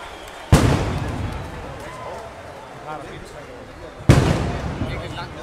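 Two sharp fireworks bursts boom over Esbjerg, heard from a concert stage, each a sudden loud crack trailing off into crackle and rumble, spaced about three and a half seconds apart with crowd noise and voices underneath.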